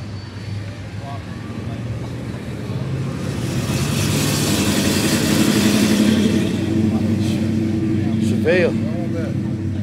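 A motorcycle engine roars past nearby at a car meet, building in loudness and holding a steady drone, with a brief voice near the end.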